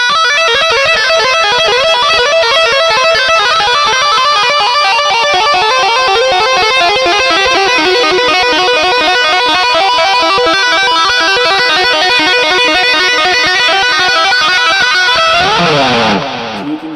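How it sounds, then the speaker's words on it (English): Distorted electric guitar on a Mooer GE200 brown sound preset plays a fast, dense tapping run with a slow sweeping phaser effect, loud and continuous, ending in a brief fade. "Hear more this slow phasing sound"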